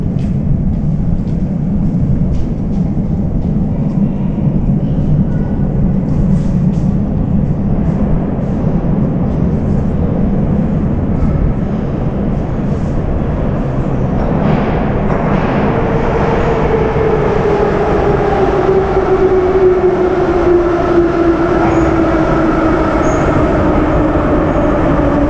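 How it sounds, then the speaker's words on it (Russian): A metro train arriving at a station in the Saint Petersburg subway, with a loud steady rumble throughout and a rising, then falling whine from the motors and brakes toward the end. "И вот шумит, едет поезд."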